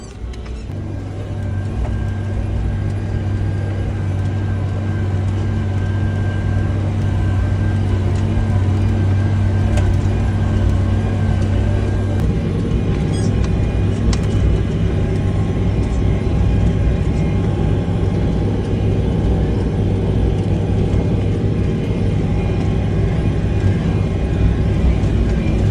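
A tractor pulls an Amazone Catros+ 9003 2TX disc harrow across a field, its engine a loud, steady low drone and rumble that runs throughout, with a brief rattle midway.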